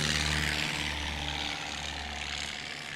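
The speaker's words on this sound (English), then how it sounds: "So Ron Hansen's takeoff was 500 feet in the Aranca Champ" An Aeronca Champ light airplane at full power during a short takeoff at a STOL competition, its propeller engine droning loud and steady, slowly fading slightly as it pulls away.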